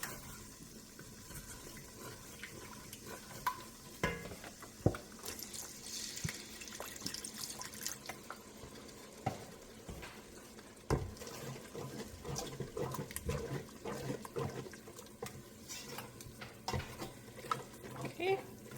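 Broth is poured and stirred into a wild rice soup, with faint liquid splashes, sloshing and intermittent spoon knocks against the pot, fairly quiet throughout, and some talk in the background.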